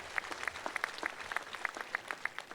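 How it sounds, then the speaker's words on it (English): Faint applause for a keynote speaker at a graduation ceremony, a thin patter of individual claps at a distance, steady through the short stretch. "Let's have another round of applause for Dr. Rodriguez."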